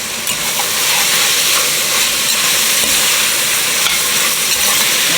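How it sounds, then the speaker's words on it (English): Onion, tomato paste and garlic sizzle loudly in a pan with ground beef for homemade Hamburger Helper, a dense, continuous close hiss and crackle with stirring scrapes and no talking. "Now we're just going to toss in our onion and some tomato paste. We're going to add in some garlic."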